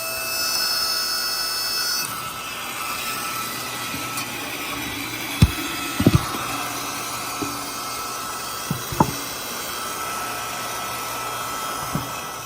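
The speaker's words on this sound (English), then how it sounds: "the splitter handles it no problem as well" A log splitter works through Osage orange firewood, a steady hydraulic drone running throughout, punctuated by several sharp cracks and pops as the wood splits.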